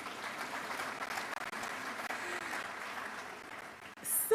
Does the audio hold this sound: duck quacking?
no